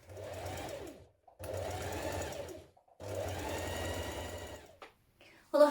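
A sewing machine stitches the hem of a Melba dress in three steady runs of close, even whirring, with short pauses between them and a brief louder clatter at the very end.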